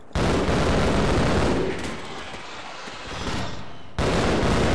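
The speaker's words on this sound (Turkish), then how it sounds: "Yukarıdan sıkan var." Gunfire rains down from above in Half-Life, a loud, dense burst of shots that dips briefly in the middle before surging back at full strength, with no voices over it.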